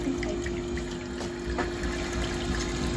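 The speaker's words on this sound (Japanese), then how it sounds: "お湯が出てます" Hot water running from a tap at an ostrich farm in freezing weather, a steady continuous gush with a constant tonal hum, moderately close and uninterrupted.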